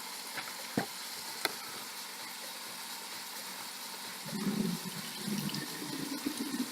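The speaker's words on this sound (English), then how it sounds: "gonna drain my red beans" Canned red beans being drained for chili, liquid trickling and splashing from the can held back by its lid, faint at first and then a steadier pour in the last few seconds, with no talking.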